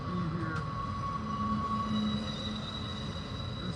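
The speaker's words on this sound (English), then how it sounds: "This train is going by." A train rolls past at close range, a loud continuous rumble with steady metallic wheel squeal and ringing tones held throughout, no voices over it.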